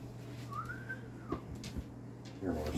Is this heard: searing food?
no